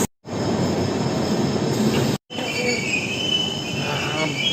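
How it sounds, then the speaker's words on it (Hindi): Train running on rails with loud, continuous rumbling and high wheel squeal close by, cut briefly twice. "तो आगे संगवारी हो रेल है"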